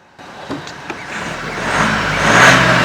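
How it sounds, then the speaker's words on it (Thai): A 2019 Isuzu D-Max 1.9 turbo diesel pickup engine revs up close, its roar building and rising into a loud, rough whine with some clicks early on. "มาเดี๋ยวเรามาลองฟังเสียงเครื่องกันดูนะครับผม"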